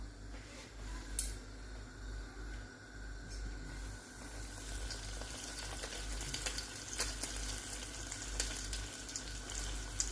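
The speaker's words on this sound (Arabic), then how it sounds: "هنا في زيت سخونه ونقليهم بالحبه" Vegetable and cheese fritters frying one by one in hot oil, giving a continuous, close hiss of sizzling with small crackling pops and spits scattered across it at moderate volume.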